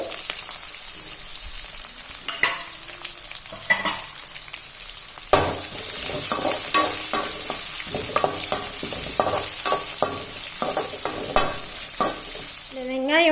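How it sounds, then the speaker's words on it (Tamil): Onion, green chili and chopped garlic sauté in a pan for bottle gourd rice, with a steady sizzle under repeated scraping and clinking stirs. "வெங்காயம், பச்சை மிளகாய், நறுக்கின பூண்டு இதையும் சேர்த்து நல்லா வதக்கிடலாம்."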